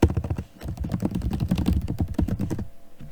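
Rapid typing on a computer keyboard while entering text into a drawn text box in a Hangul word processor, dense clicking keystrokes in quick bursts, close and clear with no talking.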